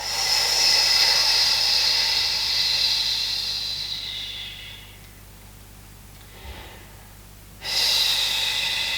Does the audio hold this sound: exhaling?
yes